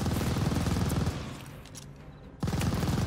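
Machine gun fire in the Call of Duty: Vanguard campaign, with a loud rapid burst of automatic shots, a short lull of distant rumble, then another close burst starting abruptly.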